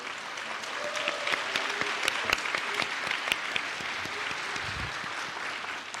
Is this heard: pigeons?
no